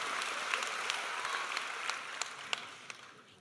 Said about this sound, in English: may I ask that we give a special round of applause?